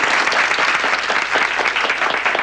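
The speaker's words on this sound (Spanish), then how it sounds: "¡Un aplauso, señores!" A crowd claps enthusiastically in dense, sustained applause that stays loud and even for the whole stretch.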